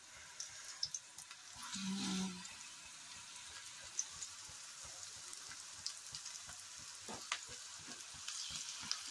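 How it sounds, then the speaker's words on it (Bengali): Cabbage pakora fritters fry in a little oil in a small kadai, giving a soft, continuous sizzle with scattered faint crackles and pops throughout. "অল্প তেলেই ভাজবো"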